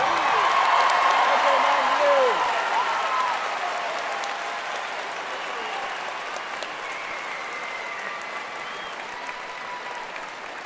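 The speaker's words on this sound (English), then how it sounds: "So for one last time, I get a cheer for you all." A high school graduation crowd applauds and cheers steadily for about ten seconds, loud at first and then easing into a softer sustained wash of clapping, with faint voices and a few whoops mixed in.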